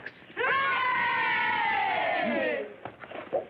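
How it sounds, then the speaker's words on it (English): A crowd of children gives a big sustained cheer in an old 1940 film, loud and close, holding for about two seconds before fading into scattered shouts. "Let's give a great big cheer for Mr. Fox."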